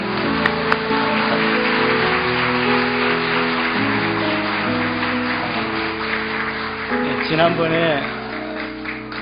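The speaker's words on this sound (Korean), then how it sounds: "잠깐 일어나실 때 우리 큰 박수로 우리 환영하고 축복하겠습니다." A church congregation claps at length to welcome visiting missionaries and two local pastors from Palau, a steady dense patter mixed with sustained keyboard or organ tones and a voice speaking over it.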